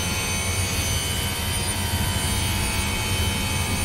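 Race car engines drone loudly at Daytona in the NASCAR 22 video game, a steady, dense roar with no breaks, heard alone without talk.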